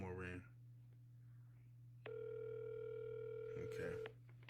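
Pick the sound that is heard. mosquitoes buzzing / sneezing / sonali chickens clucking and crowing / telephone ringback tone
telephone ringback tone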